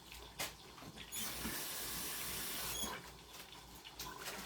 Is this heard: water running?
yes